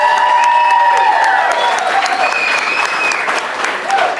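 A packed audience at a high school football press conference claps and cheers loudly, with whoops and shouted voices riding over sustained dense applause for the full stretch.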